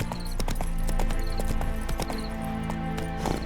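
In The Witcher 3, the horse Roach gallops, its hooves clip-clopping in a quick steady rhythm, close and clear over a bed of game music.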